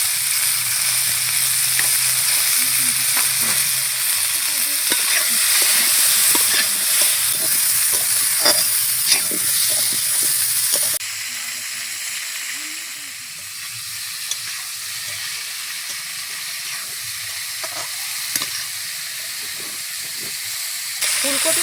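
Cauliflower frying in oil with turmeric powder and salt for a Bengali egg khichuri: a loud, continuous hissing sizzle with stirring scrapes, dropping to a softer steady fry partway through.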